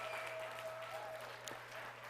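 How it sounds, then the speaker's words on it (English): Faint audience applause at a motivational business seminar on a Saturday, a steady low patter of hands heard from a distance with a constant hum beneath it. "That round of applause goes right back to you for believing that."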